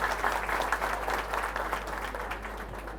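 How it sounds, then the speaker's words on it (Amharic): An audience applauds at an event, with steady dense clapping throughout that tapers slightly toward the end over a low hum. "ስለዚህ አሁንም ጭብጨባው ትንሽ የሳሳ ነው፣ ብትደግሙልኝ ደስ ይለኛል።"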